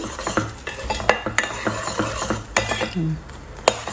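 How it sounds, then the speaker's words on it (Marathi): A spoon stirs sugar syrup in a pan after a pinch of fruit salt goes in, giving quick, irregular metallic scrapes and clinks against the vessel with a soft bubbling underneath, close and moderately loud. "मी थोडासा फ्रूट सॉल्ट ॲड करणार आहे एकदम किंचित आणि मिक्स करून घेऊ"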